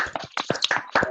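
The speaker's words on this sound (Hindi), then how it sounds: "सब लोग जम के ताली बजाओ" Scattered clapping from a small group applauding winners at an event, several uneven sharp claps over about a second, close and fairly loud with no voices.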